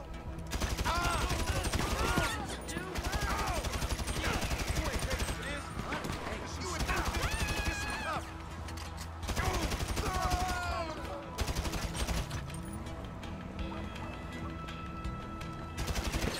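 Gunfire in GTA 5 Online, with rapid bursts of shots in a shootout around a garage, mixed with game effects and a person talking throughout.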